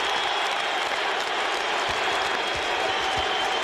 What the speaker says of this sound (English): the crowd is chanting MVP